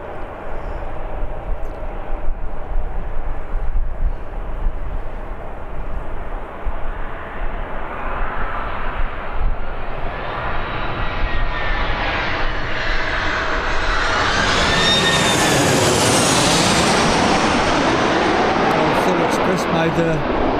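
Aircraft engines at Birmingham Airport build from a steady distant rumble into a loud, rising roar as a plane powers up and passes close, with a high whine sweeping upward near the end and people talking underneath.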